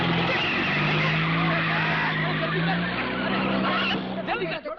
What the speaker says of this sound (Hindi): अरे चली गाड़ी।